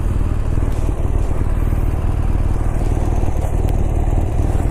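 BMW R1200RT motorcycle, a 2018 model, with a loud, steady engine drone while riding, a dense continuous rumble with no pauses and no voices.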